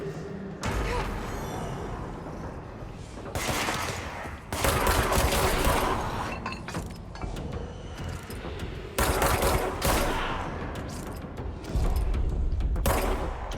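Rapid gunfire exchange in the action video game Control, with bursts of automatic shots and thuds repeating loudly throughout, close and dense, with brief lulls between volleys and no talking.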